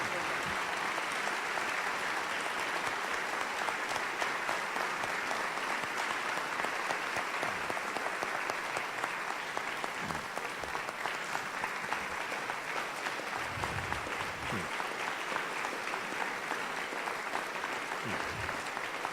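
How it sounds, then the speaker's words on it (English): Sustained audience applause after a death penalty panel discussion at a parish event, steady even clapping from a seated crowd lasting the whole stretch at moderate level, with occasional voices beneath. "please give them a round of applause."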